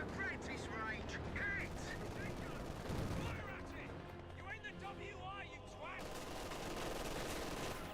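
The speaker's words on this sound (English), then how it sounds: "MG42 firing away." MG42 machine gun fire in the World War II strategy game Company of Heroes 2, continuous rattling bursts and scattered battle gunfire sitting under a steady stream of fast commentary.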